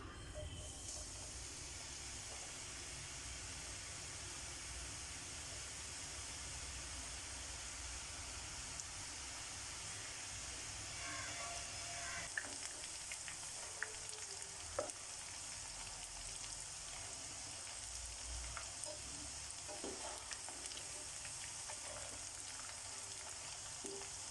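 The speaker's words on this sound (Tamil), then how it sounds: "இப்போ அடுப்பில் எண்ணெய் சூடாகிட்டு போட்டு பொரிச்சிக்கலாம்." Dough pieces deep-fry in hot oil at medium heat for gala gala payasam, a continuous dense crackling sizzle that holds evenly throughout, with a few faint clicks of a utensil near the end and no talking.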